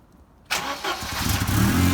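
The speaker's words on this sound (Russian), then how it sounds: "Ну давай, пекарь, заводи." A Mercedes W201 190E with an M102 engine on E-Jetronic injection cranks and fires after a half second of quiet, then settles into a rough, loud idle close by.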